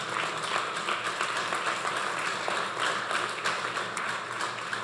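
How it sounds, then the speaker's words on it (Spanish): A church congregation claps together in a dense, sustained burst of applause, a broad wash of hand claps filling the room for several seconds. "Dele ese aplauso al Señor"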